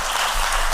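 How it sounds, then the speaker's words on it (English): Audience applause at the close of a university lecture on politics and emotion, a dense steady wash of clapping from a large room lasting the whole short moment without a break. "Je kreeg applaus."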